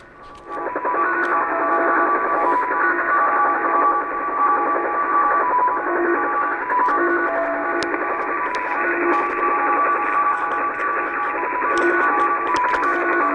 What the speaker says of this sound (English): So it sounds like a slot machine going.